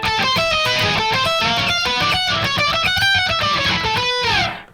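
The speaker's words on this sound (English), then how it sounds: "Okay, and with the octave, it sounds like this." Electric guitar with an octave effect playing a slow melodic line from a song, with a thick doubled octave tone, notes ringing and sliding, ending as the sound cuts off.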